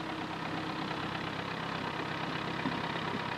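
A David Brown 1200 tractor engine rumbles continuously, a low heavy drone with a faint knocking texture, fairly close and unbroken throughout.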